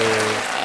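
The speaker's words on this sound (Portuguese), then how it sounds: "Uma salva de palmas para a pastora." Applause greeting a pastor arriving at a podcast recording: a brief burst of dense clapping from a small group, loud and close, with voices mixed in.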